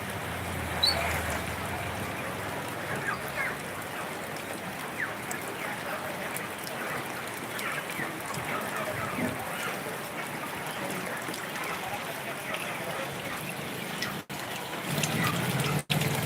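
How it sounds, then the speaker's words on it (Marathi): Heavy unseasonal rain pours down in Natepute town during a power cut, a dense steady hiss of water running and splashing close by across the whole stretch, with a brief dip near the end. "जोराचा पाऊस या ठिकाणी सुरू आहे"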